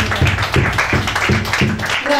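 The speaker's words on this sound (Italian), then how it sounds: "Un applauso." An audience in a lively venue claps in quick rhythmic bursts of several beats, fairly loud and close, with voices mixed in underneath.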